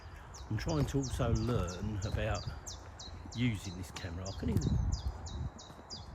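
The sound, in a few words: bird tweeting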